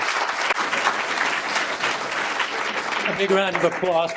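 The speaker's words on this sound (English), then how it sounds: "let's have a big round of applause for" Loud applause from the audience at a mayors' summit in Diablo Valley, continuous clapping for the mayors, with a voice starting to speak over it near the end.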